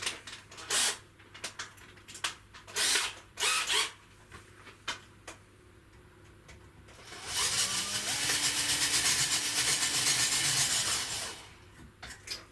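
A few sharp scraping bursts are followed by a power drill that whirs steadily for about four seconds close by, then stops.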